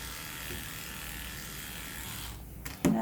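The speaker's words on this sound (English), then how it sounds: "And that's my clipper work." Electric dog clippers fitted with a wide snap-on comb trimming a small dog's legs, a low steady hum held close and even throughout, ending in a brief clunk.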